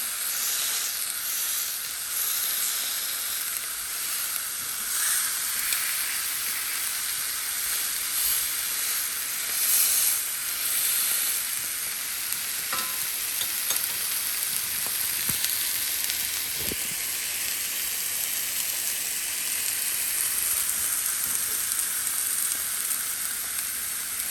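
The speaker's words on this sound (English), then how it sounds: "You hear that sear." Meat sears in a hot pan with a steady, loud sizzling hiss that holds for the whole stretch, close up, with a few faint clinks and no talking.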